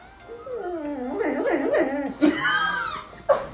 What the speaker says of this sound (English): This dog cries like a baby.